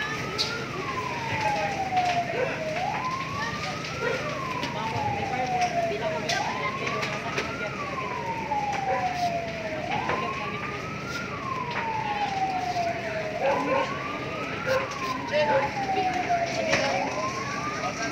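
Fire truck siren wailing while responding to a fire on Independencia Street in Tacloban City, a loud repeating rising-and-falling sweep under steady traffic rumble, with voices talking nearby.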